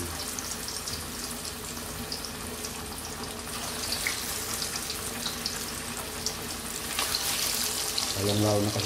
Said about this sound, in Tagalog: So, umpisahan na natin ang pagpiprito guys.